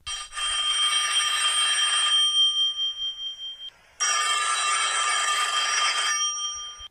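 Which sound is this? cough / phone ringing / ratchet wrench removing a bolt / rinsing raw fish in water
phone ringing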